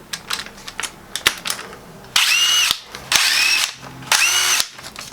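A small tile-mud mixing paddle spun by an impact driver makes three loud, sustained whirring bursts, each about a second long, separated by quieter clicks and handling noise.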